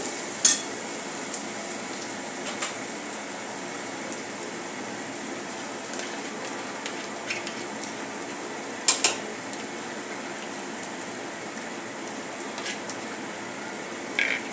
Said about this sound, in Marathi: आता कांदा परतत आलेला आहे।